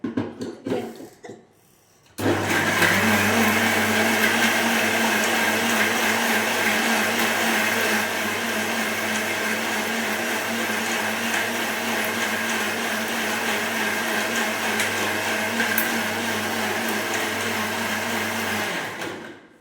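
A small mixie grinder whirs steadily, blending tender coconut for juice, a loud continuous motor drone with a low hum that runs almost the whole way after a brief start, no talking.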